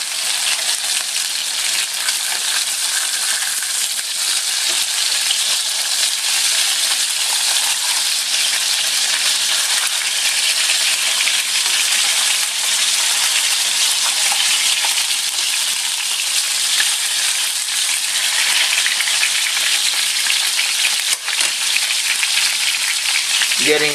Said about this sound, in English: So I'm going to reach in here and flip them over.